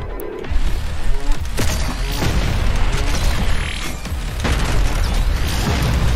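Shotgun blasts and explosions in the game Doom Eternal, a dense, loud wall of booming impacts, crashes and mechanical clatter rolling continuously with a few sharper hits standing out, no speech.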